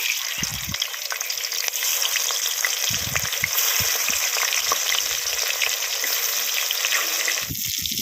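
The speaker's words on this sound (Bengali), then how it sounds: "এবার মাছ ভেজে নেব" Fish fries in hot oil with a loud, continuous crackling sizzle, and a few low bubbling bursts come and go.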